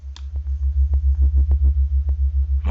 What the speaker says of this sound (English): So you've got that really thick sub bass.